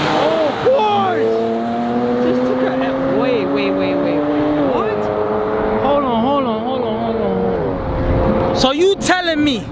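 Cars race at a street takeover, including a Porsche, an M240 and a B58-engined car, with loud revving engines rising and falling through gear shifts, a car passing by near the end, and people talking and shouting over them.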